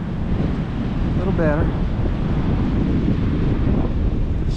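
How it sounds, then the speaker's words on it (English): Strong north wind buffets the microphone on Galveston beach, a steady loud roar through the whole stretch, with surf blended in beneath and a brief spoken phrase partway through. "Alright, the north wind is really coming in."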